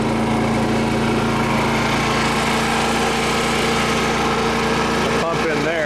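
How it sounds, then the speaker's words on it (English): A pump moving leach solution to resin cartridges drones loudly and steadily at close range, a constant engine-like mechanical hum with a brief clatter near the end. "The pump in there runs it over to the resin cartridges, and the Barron solution is going in this tank."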